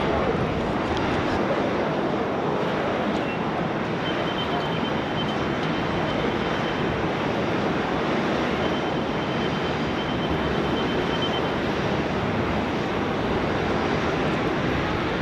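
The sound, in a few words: jet airliner taking off from Sydney Airport runway 16 right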